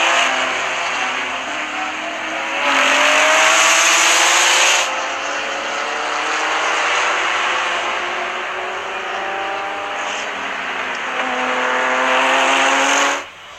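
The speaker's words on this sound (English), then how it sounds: "They are trying to squeeze the nose of that Porsche where it does not go." White Porsche race cars battle wheel to wheel on track, a steady loud roar of engines with rising and falling whine as they accelerate, swelling louder as cars pass close, no voices over it.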